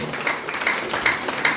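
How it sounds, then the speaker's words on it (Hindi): An audience at an indoor gathering claps steadily, a dense, even patter of many hands that holds for the whole stretch with no voices on top. "सिकंदर सर के लिए जोरदार ताली"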